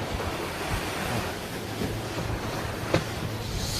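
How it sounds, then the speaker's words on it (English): Strong wind rushing across open sea off Rose Bay during an Australian sailing championship race, a steady broadband roar with surf wash and buffeting on the microphone, continuous and close, with no talk. "very windy now for the big rig"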